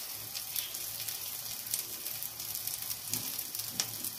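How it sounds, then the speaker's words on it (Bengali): Ground spices (coriander, cumin, turmeric and salt) cook slowly over a low flame for a soybean curry, producing a soft, even sizzle that stays faint and continuous with a few light crackles. "একদম লো ফ্লেমে দিয়ে আস্তে আস্তে কষিয়ে নিচ্ছি"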